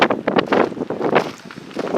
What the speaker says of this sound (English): I apologize for the high winds. It's extremely windy out here.